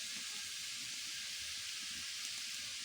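Vegetables fry in mustard oil, giving a steady broadband sizzle and hiss that goes on without a break at moderate, close loudness; no voices.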